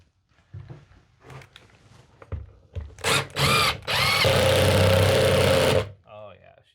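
Cordless drill driving a screw into the wall of a box van during a build, a couple of short whirring bursts followed by a longer, loud sustained run, with talk before and between.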